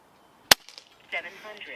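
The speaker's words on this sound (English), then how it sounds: "We'll shoot 2 7-shot groups" A single sharp, close crack from an Umarex Notos .22 regulated compact PCP air rifle, followed by a brief voice and faint handling sounds.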